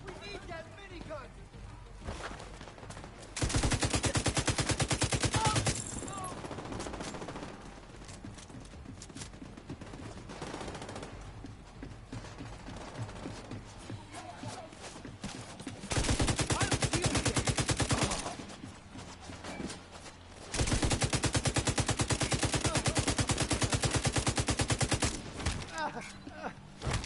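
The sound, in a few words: minigun gunfire in video game The Division 2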